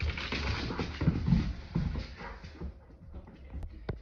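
A dog pants and whimpers close by, quick breathy pants mixed with soft whines that grow quieter after a few seconds.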